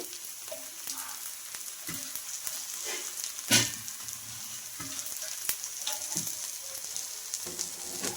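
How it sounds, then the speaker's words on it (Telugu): Rava dosa roasts on a hot pan with a continuous close crackling sizzle, sharp spitting pops and one louder scrape midway as it is flipped. "దోశని అటు ఇటు తిప్పుకుంటూ కాల్చుకున్నాము"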